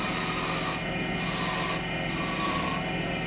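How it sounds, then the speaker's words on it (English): A parting tool cuts into spinning wood on a lathe while turning a wooden dinosaur egg, a loud, close rasping scrape that comes in three sustained bursts separated by short pauses, with no talk. "now I'm going to use the parting tool a little bit further"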